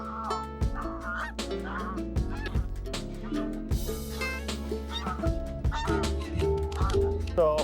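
A lost goose stuck in a ditch honks repeatedly in close, loud bursts with uneven rhythm, mixed with rustling and handling noise outdoors.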